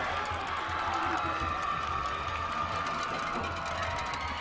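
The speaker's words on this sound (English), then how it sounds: "And the crowd is definitely into it." A high school football crowd at a night game between Dothan and Northview roars and cheers steadily from a distance, a continuous wash of noise with a commentator talking over it.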